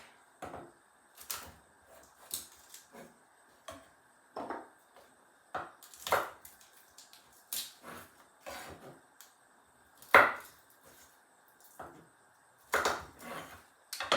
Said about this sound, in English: while that's happening, we're going to dice up our garlic